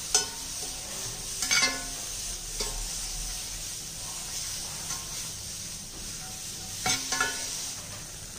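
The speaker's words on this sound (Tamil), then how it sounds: "அடுத்து வந்து நம்ம பிரண்டை போடுறோம். இப்போ இதையும் நல்லா வதக்கிடணும்." Pirandai (veld grape) is sautéed in a pan as a weight-loss spice powder is made, giving a steady sizzle with scraping stirs and a few louder clatters near the start and end.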